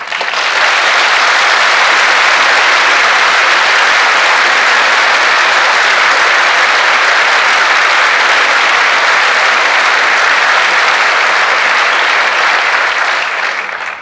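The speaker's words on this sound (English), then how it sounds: "I suggest we honor him tonight with a round of applause to show our appreciation" An audience at a county State of the County address gives a long, loud, dense round of applause that holds steady for about fourteen seconds with no talking over it.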